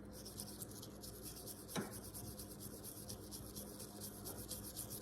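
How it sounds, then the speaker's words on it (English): Soft-bristled brass brush scrubbing corroded aluminum threads on a pressure washer pump, a faint continuous rubbing and rasping with one brief louder scrape. "Somewhat soft bristled brass brush. We just want to clean the crap out of the threads."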